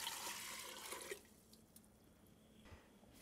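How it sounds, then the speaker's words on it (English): Water poured into a big pot in a kitchen while making sugar syrup, a loud rushing splash for about a second that then drops to a quiet trickle and drip. "So we're going to start out with some water in a big pot."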